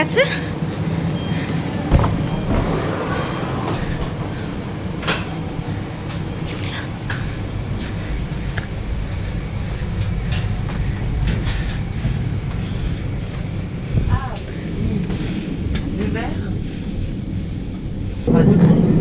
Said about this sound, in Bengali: ট্রেন এসে